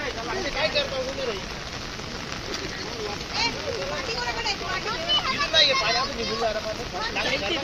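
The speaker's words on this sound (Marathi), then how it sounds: "पाऊस आज जास्त ना." Steady rain patters on surfaces throughout, with voices murmuring beneath the downpour.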